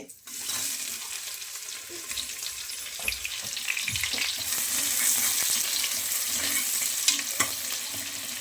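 Sliced onions, salted, frying in a pan while a mutton biryani is being made: a continuous close sizzle with intermittent stirring scrapes and clinks, building slightly louder toward the end, no voices.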